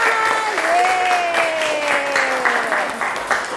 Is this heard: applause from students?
yes